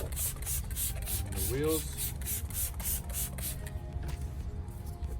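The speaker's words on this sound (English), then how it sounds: "I'm just gonna pre-soak the wheel arches with the all-purpose cleaner" Rapid pulsed hiss of all-purpose cleaner sprayed from a trigger bottle onto the wheel arches of a GT-R, close and repeated in quick bursts, with someone speaking briefly over it.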